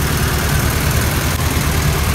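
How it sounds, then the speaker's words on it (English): A Honda H22 engine fitted in an EG Civic idles steadily at night after being burped during overheating repairs, a constant low, even rumble heard close by with no voices. "got the car idling, just burped her and she's cooling back down."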